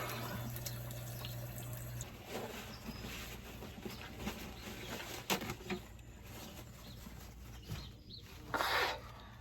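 A tap runs softly as someone rinses mild Dove soap off their face, a quiet, continuous trickle broken by a few splashes and louder gushes toward the end.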